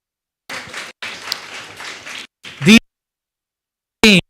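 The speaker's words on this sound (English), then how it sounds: "Please, a loud round of applause for her." A burst of audience applause after a classical Assamese dance performance, dense clapping in several short bursts with brief gaps, ending in quick louder claps.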